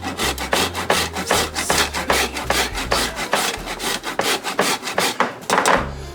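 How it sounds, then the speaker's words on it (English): Nutmeg rubbed over a grater in a mac and cheese kitchen, a fast series of raspy scraping strokes, close and continuous, with no speech. "So this is nutmeg, and I'm gonna do about 15 swipes."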